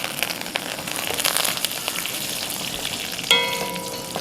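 Crushed garlic and curry leaves sizzling in hot coconut oil, with a dense steady crackle that jumps sharply near the end as more leaves drop into the pan, heard close and alone.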